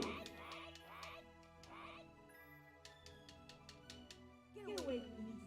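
Honks and quacks from a bird in a Sega Saturn video game, several short bright calls scattered through the clip with chiming game sounds, under someone talking.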